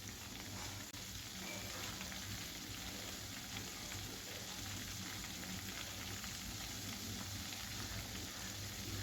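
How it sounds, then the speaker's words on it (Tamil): Homemade onion hair oil boiling in a pan, a continuous dense sizzling and bubbling crackle, steady and close with no pauses. "நல்லா கொதிக்க ஆரம்பிச்சிருச்சு."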